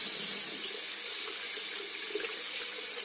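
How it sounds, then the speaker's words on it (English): Water poured over a hand to test makeup for waterproofing, a steady close rushing stream like a running tap, continuous throughout with no talking. "Let's pour some water on them now."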